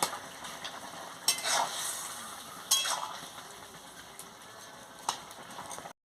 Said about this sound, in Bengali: মাছের মাথাটা ভেজে গুঁড়ো করে রেখেছি, দিয়ে দিচ্ছি, দিয়ে ভালো করে নাড়িয়ে নিচ্ছি